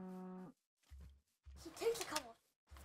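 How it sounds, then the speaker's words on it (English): A Minecraft cow gives a deep, low moo in short bursts, three separate lowing sounds over a few seconds, with talking close by in between and over them. "Stop getting in the way of me and my cow, who obviously is sniffing my wheat."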